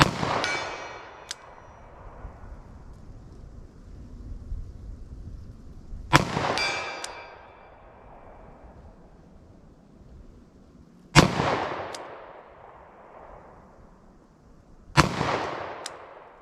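Four loud handgun shots from 10mm and .357 Magnum pistols fired outdoors, arriving at uneven intervals several seconds apart, each a sharp crack followed by a long ringing decay.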